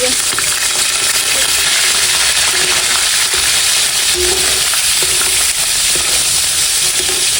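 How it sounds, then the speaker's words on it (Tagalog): Pieces of liver fry loudly in a pan, a strong continuous sizzle and spatter close up, with faint stirring scrapes and clinks underneath and no talking. "Ang akin po munang lulutuin na itong atay"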